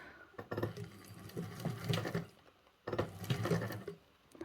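A sewing machine stitches fabric along stapled seams of a Travelnizer organiser in two bursts of rapid whirring, with a short pause between them, close and alone.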